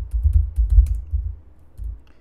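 Typing on a computer keyboard while building an online assessment form, heard as a low, muffled run of keystrokes that bunches into a steady patter and then thins into a few scattered taps, with no voice.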